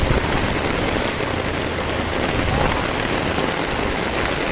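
Steady, dense rain pours down onto surfaces close by, a constant loud hiss of drops that stays even throughout, with no voices.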